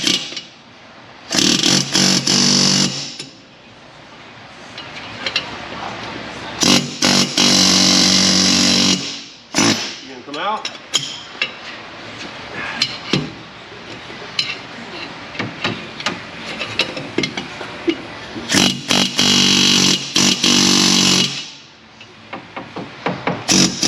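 Hammering drives a bearing race out of a Ford F150 6.2 4x4 during a rebuild, the metal blows coming in long dense bursts of rapid strikes between shorter pauses and scattered single hits, loud and close.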